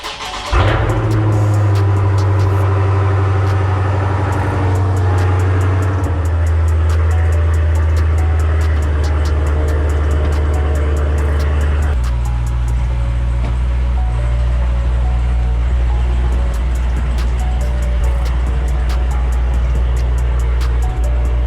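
A wide-body Dodge Charger starts from cold in a garage, a loud engine roar with a sharp flare at startup that settles into a deep, steady idle rumble with a brief rev change partway through, no talking.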